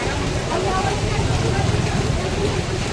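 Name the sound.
heavy rain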